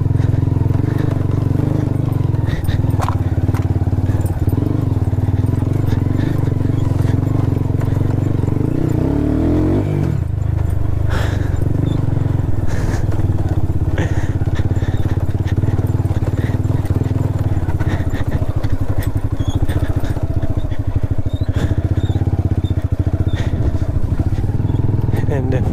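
A modified Hero Karizma R motorcycle, restored for adventure riding, drones loudly and continuously as it is ridden off-road, with rough clattering over the terrain and voices speaking over the engine.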